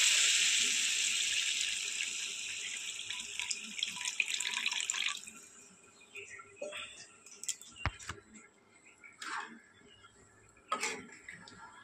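Water pours into a pot of rice for prawn pulao, a steady close gush for several seconds that stops, followed by faint scattered clinks and drips.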